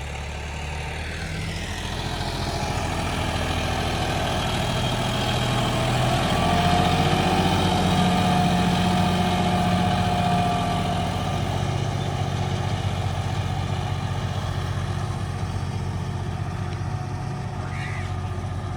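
A John Deere 5210 tractor on radial tyres idles steadily with a low, continuous rumble throughout, while someone speaks over it.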